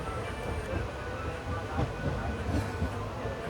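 The Ernad Express, Trivandrum to Mangalore, rolls slowly into Payangadi station with a steady low rumble of wheels and carriages, continuous and fairly close, with no talk.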